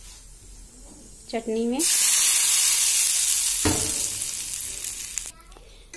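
Curry leaf tempering being poured into chutney, setting off a sudden, loud, sustained crackling sizzle that fades away over a few seconds, with brief talk before and after it.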